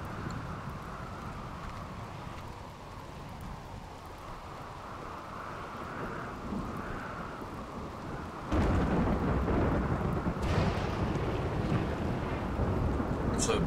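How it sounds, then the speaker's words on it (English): A thunderstorm with heavy rain in the colony-simulation game RimWorld, a dense continuous roar of rain and rumbling thunder that swells noticeably louder partway through. "It's a big thunderstorm."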